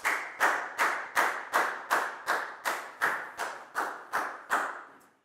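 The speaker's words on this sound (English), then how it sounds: "a big round of applause for Dan, please, guys" A primary school class in a Year 4 maths lesson claps in unison for a pupil, about thirteen sharp, evenly spaced claps in a steady rhythm, close and distinct with nothing else over them.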